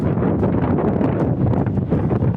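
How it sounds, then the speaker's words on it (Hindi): Strong gusting wind buffets the microphone in a city during a dusty storm, a dense continuous roar with no voices. "चलने वाली तेज हवाओं से शहर भर में गर्द गुबार के तूफान का मंजर था।"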